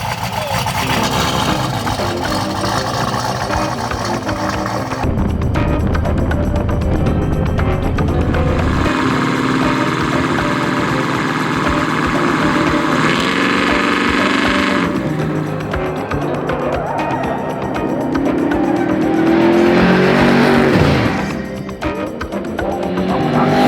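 A 1,600 HP twin turbo Chevelle restomod driving, its engine loud and close with rising and falling revs, turbo whine and gear changes, overlaid by mixed sounds that shift abruptly throughout.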